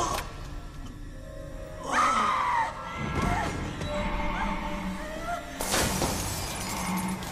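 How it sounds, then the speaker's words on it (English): Glass shatters loudly as a light is smashed in a horror film scene, a sharp crash followed by a scream and tense ambient noise, with a second bright burst of breaking sound later. "The light smashing is in the original."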